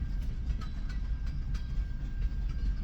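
A very long freight train rolls slowly past, a steady low rumble with faint intermittent clicks and squeals of the railcars, continuous and fairly near.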